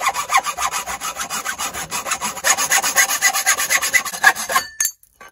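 A hand saw cuts through wood to make nunchaku, with rapid, regular back-and-forth rasping strokes, loud and close, ending abruptly.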